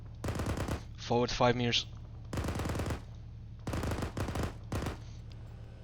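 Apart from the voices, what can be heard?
machine gun fire in the video game Arma 3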